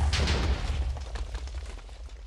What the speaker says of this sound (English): Alright, now we are testing the Mark V grill grenade.